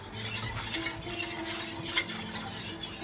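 Stirring béchamel sauce made with milk in a pan: a soft, continuous scraping swirl of a utensil against the pan with faint clinks, close and quiet, with no one talking.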